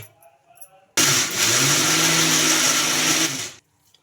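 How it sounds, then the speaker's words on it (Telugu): A wet grinder coarsely grinds soaked black-eyed peas into batter for garelu (lentil fritters). It starts abruptly as a loud, steady whirring and churning roar, holds for about two and a half seconds, then cuts off. No talking. "ఇంకా కొద్ది కొద్దిగా వేసేసుకొని గ్రైండ్ చేసుకోవాలి దీన్ని స్మూత్గా గ్రైండ్ చేయకూడదండి"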